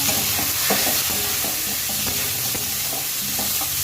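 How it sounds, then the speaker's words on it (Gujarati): Onions dropped into a hot pan on a high flame for a tomato-onion side dish sizzle loudly and close, with a steady hiss broken by regular scraping stirs about every half second. "નાખી દઈશું આપણે ડુંગળી ગેસની અમે ફાસ્ટ જ રાખ્યો છે"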